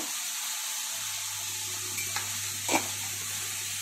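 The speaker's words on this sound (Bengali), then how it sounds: "এখন এটাকে মশলাটাকে ভালো করে কষাতে হবে।" Spice paste with Kashmiri chili powder is fried and stirred in a pan for a bata fish curry, a close, continuous sizzle with occasional scraping strokes of the spoon over a low steady hum.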